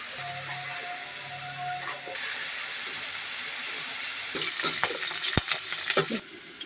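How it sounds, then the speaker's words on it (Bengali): Spices with ginger paste and turmeric fry and sizzle in a pan, a soft steady hiss followed by a burst of scraping stirring sounds near the end. "মশলাটা ভালো করে আমি ভেজে নিই যতক্ষণ কাঁচা গন্ধ না যাবে"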